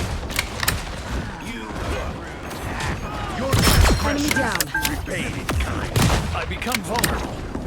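Rapid bursts of gunfire and impact effects from Moon Knight crack through a video game match, dense and repeated, with a player talking over the shooting.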